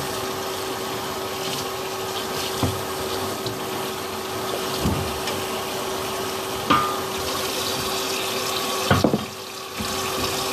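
A kitchen tap runs in a steady, fairly loud hiss of flowing water, with droplets splashing and a few brief clanks and knocks scattered over the stream.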